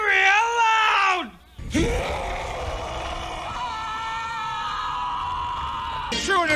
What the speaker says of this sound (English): whenever anyone says a secret word, scream real loud!